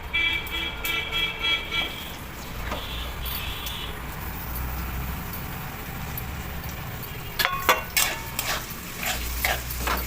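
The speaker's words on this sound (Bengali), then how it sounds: "বেরেস্তার জন্য পেঁয়াজটা এখন ভেজে নেবো" Onions fry in oil for chicken biryani beresta, a low steady sizzle with occasional clinks of a utensil against the pan and a faint outside horn near the start.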